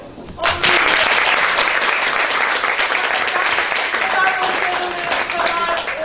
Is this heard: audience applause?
yes